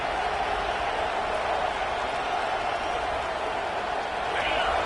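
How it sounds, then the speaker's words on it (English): Football stadium crowd during a college game, a steady, loud wash of roaring and cheering that holds evenly throughout with no distinct breaks. "This crowd trying to make life miserable for this offense."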